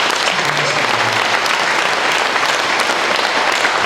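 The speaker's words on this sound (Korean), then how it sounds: "다시 한번 박수로" Audience applause at a commemorative forum held in a church hall, a steady dense clapping from a seated crowd lasting several seconds at full strength, with no voices over it.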